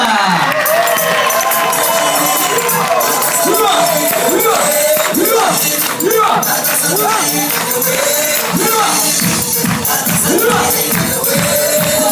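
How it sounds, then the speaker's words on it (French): A holiday club crowd cheers, whoops and applauds for a sports entertainer during a team introduction at a resort in Djerba, loud and sustained, with shouting voices and a rhythmic chant-like pulse throughout. "Un tonnerre d'applaudissements et un grand respect pour notre animateur sportif polyvalent"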